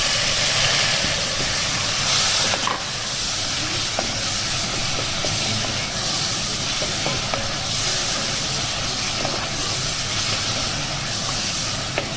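Red chili and tomato go into browned garlic in a hot pan and sizzle loudly and steadily, with occasional stirring clicks over a constant frying hiss.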